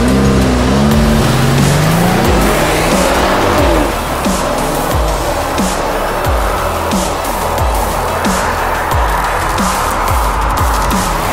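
A loud Audi Allroad engine roars continuously during a drag race launch, with tire squeal early on and revs rising and falling as the car accelerates hard.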